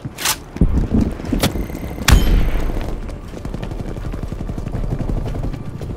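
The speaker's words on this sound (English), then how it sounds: "attack helicopter inbound." Attack helicopter in the Call of Duty Black Ops Cold War multiplayer game, a loud rotor drone mixed with bursts of gunfire and explosions that keep going under the noisy battlefield mix for several seconds.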